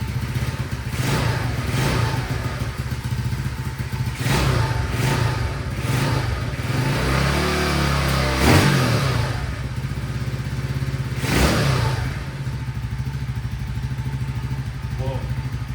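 A Honda CT70 clone minibike engine runs cold, with a steady close putter, several short throttle blips, and a speech-like rumble in the middle.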